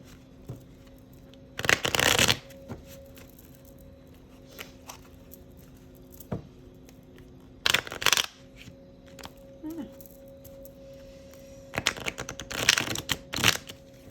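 A clarifying deck of tarot cards being shuffled in three separate riffling bursts, crisp and close, with quiet pauses between them.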